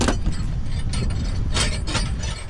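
A ratchet wrench clicks steadily as it loosens a nut on 3/4 inch all-thread used as a puller during a U-Haul truck hub replacement, a close, continuous mechanical ratcheting.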